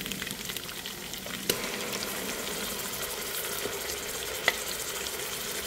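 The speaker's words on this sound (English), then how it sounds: "Now she's adding her spices." Spices sizzle and fry in hot oil over browned onions in a home-cooked mutton curry, a steady crackling hiss throughout with two brief sharp clicks from stirring.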